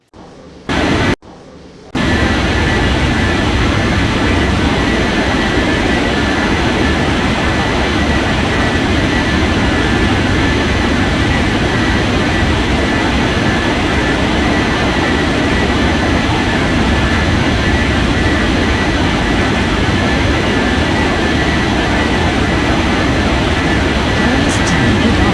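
A jet airliner at Gran Canaria airport produces a loud, steady broadband engine roar with a deep rumble that holds for over twenty seconds after a brief opening with sharp cuts.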